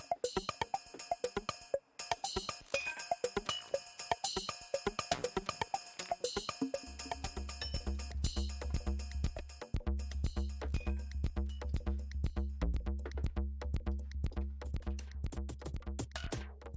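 Sound effects from the Mod Bits pack play back to back: a run of sharp, glitchy electronic hits and stutters, joined around the midpoint by a steady, loud low bass drone. The bursts keep repeating over it, with no one talking.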